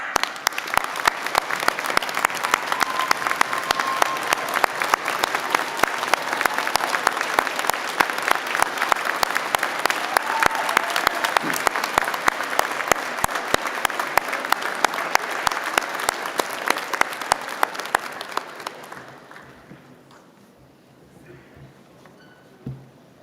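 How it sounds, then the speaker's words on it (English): A large audience at a graduation ceremony claps in sustained, dense applause for nearly twenty seconds, then it fades away to a quiet hall with a last stray clap. "join me in giving them the applause that they so deeply deserve."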